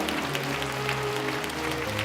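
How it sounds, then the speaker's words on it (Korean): A church congregation claps as worshippers leave the sanctuary after a Sunday service, a steady even patter of many hands with a low sustained tone running underneath. "여러분 나가실 때에 큰 박수로 우리 기쁨으로 환영하시길 바랍니다."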